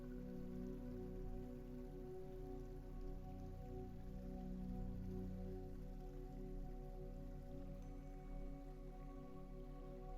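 Steady, close rain patters onto dark open water at night, a dense continuous hiss of drops with a low churning undertone and no voices.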